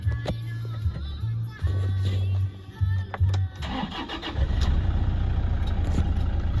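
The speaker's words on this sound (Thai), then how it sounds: "เสียงเครื่องยนต์ตอนสตาร์ทนี่เพาะมากครับ" A Toyota Hilux Vigo Champ 2.5 engine cranks with a rhythmic starter whir, then catches and settles into a steady, loud idle at close range.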